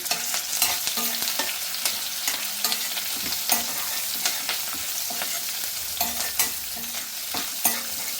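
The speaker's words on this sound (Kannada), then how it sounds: "ಇದನ್ನೆಲ್ಲ ಚೆನ್ನಾಗಿ ಫ್ರೈ ಮಾಡ್ಕೊಳ್ಳೋಣ" Onions frying with salt in a pan, a loud continuous sizzle broken by repeated scraping strokes of a spatula stirring them.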